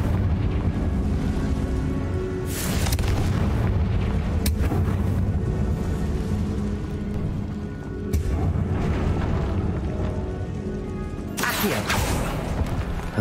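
Explosive Confringo spell bursts in the video game Hogwarts Legacy, a run of loud deep booming blasts with sharp crackling onsets, several impacts spaced a few seconds apart over a dense rumbling game soundscape.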